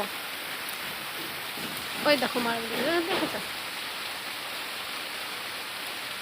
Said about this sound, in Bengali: এই যে খালি বৃষ্টি হচ্ছে গো